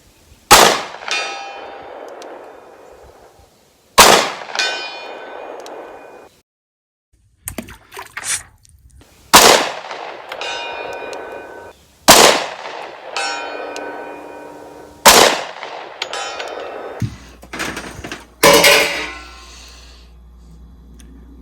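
A 10 mm pistol fitted with a Gideon Omega red dot sight fires about seven single shots a few seconds apart. Each report is sharp and loud, followed by a brief metallic ring, with quiet gaps between shots.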